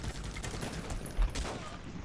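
Gunfire from troops in the Guns Up! video game crackles in a dense, continuous fusillade with a heavier thump midway, fairly faint and steady throughout.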